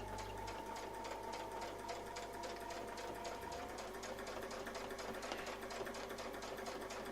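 Sewing machine stitching steadily along a curly Q quilting template, a rapid even mechanical patter that runs continuously and close, with a slight change in tone partway through as the fabric is moved past the needle and foot.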